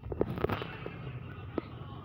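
Two or three sharp gunshot pops in quick succession early on, then a single later shot in a horror video game, fairly quiet over a low background hum.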